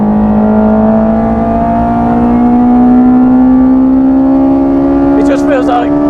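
A Honda S2000 with individual throttle bodies and 262 bhp revs on a track, its engine note climbing steadily in a loud, close in-car drone; a brief higher squeal comes near the end.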